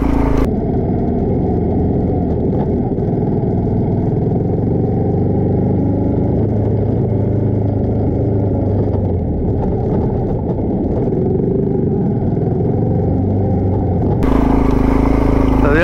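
A Suzuki DR650 single-cylinder motorcycle rides in first gear, its steady low engine drone and clattering mechanical noise loud and close throughout, with brief talk over it.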